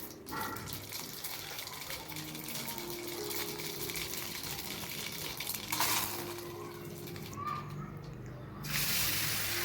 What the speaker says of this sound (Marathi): थोडीशी उडदाची डाळ टाकून घेते अगोदर त्यानंतर नेहमीप्रमाणे मोहरी कढीपत्ता वगैरे घालायचा आहे